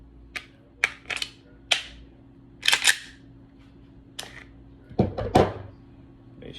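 A handgun's slide is racked and rounds are loaded during cleaning, producing a series of sharp, close metallic clicks and clacks in irregular bursts against a quiet background.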